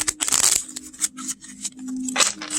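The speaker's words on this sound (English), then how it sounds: "I mean, mix them up plenty, but let's shuffle." A deck of new playing cards being shuffled up close, with papery riffling bursts at the start and again near the end, separated by quieter handling and a low steady hum.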